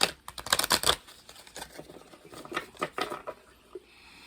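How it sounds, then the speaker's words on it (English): Oracle cards are shuffled on a table, giving a quick run of soft, close riffling taps and flutters that is busiest at the start and then thins into scattered light clicks. "when you're shuffling oracle cards"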